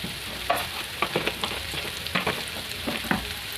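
Spiced potato filling with cumin, red chilli, turmeric and coriander powder and salt stirred in a pan for stuffed pointed-gourd chops, a low sizzle under repeated scraping spoon strokes in an uneven rhythm, close and alone.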